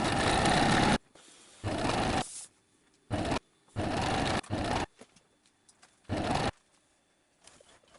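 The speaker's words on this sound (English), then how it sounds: "Sew with a straight stitch 1 centimeter from the edge." A sewing machine runs a straight stitch on dress fabric in several loud bursts of steady whirring, separated by short pauses.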